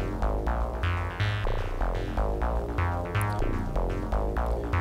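A WMD phase displacement oscillator synth voice plays a quick repeating sequence of punchy, bright notes over a beat, with a sweeping Doppler effect, steady and upfront with no voices.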